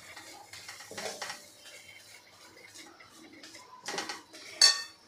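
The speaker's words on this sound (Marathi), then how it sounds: "बघा, अशा पद्धतीने आपल्याला तेलामध्ये हे सगळं परतून घ्यायचं आहे।" Spices and two spoons of coriander powder being stirred in oil in a pan, with clinks and scrapes of a utensil against the pan, occasional louder knocks and a faint sizzle underneath.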